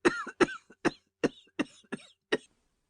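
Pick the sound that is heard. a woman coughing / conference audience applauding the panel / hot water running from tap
a woman coughing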